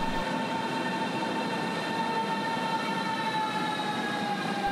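A Berlin S-Bahn train at the Wartenberg terminus station gives off a steady rumble with a sustained high whine and squeal, close and loud throughout, and no one speaks.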